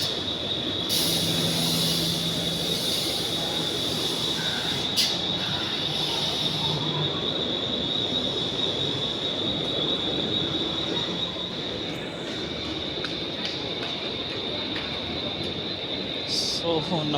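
A Mumbai local train runs through CST station, its wheels squealing with a sustained high whine over a loud, steady rumble of railcars, while people speak nearby.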